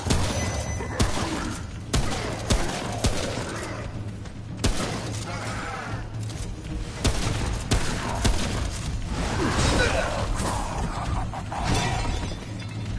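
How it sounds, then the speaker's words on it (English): Gunfire from shooting an enemy in the video game Remnant: From the Ashes, with dense, loud crashing bursts and impacts that run continuously over a steady low game hum and background music. "Gotta shoot him in the back."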